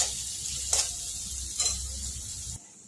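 Chopped onions sautéing in a pan, with a steady close sizzle and two brief stirring scrapes before the frying noise drops off abruptly near the end.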